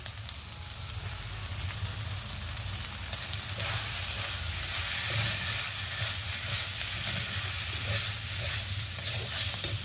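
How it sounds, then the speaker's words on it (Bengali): Washed, drained rice tossed into a hot pan for Bengali khichuri sets off a steady, close sizzle and hiss with stirring scrapes, continuous for the whole stretch and growing slightly louder partway through. "চালটা ধুয়ে রেখেছিলাম, জল ঝরিয়ে সেই চালটা দিয়ে দেবো।"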